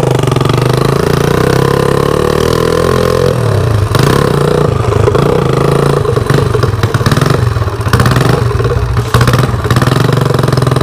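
A Streetcub drag race motorcycle with a vertical engine runs loudly and steadily, its rough, clattering roar holding close and unbroken from start to finish.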